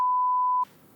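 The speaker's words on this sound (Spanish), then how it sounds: "Un pitido. Es que no podemos emitir según qué palabras." A single steady censor bleep, a pure tone held loud for about two-thirds of a second to mask a spoken word, then cutting off abruptly into quiet room noise.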